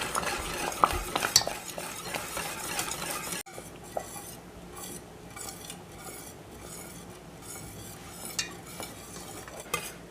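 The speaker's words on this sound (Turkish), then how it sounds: "Karışımımı şimdi içine ekliyorum. Ve güzelce pudingim kıvamına alana kadar düşük ayarda pişiriyorum." Pudding mixture stirred in a pot on low heat, with busy scraping and clinking of a utensil against the pan at first, then quieter intermittent stirring over a faint bubbling hiss.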